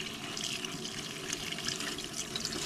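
Tap water runs steadily into a sink while dirt is rinsed off a mushroom, a continuous close splashing hiss with small spattering changes as the mushroom is handled, no talk.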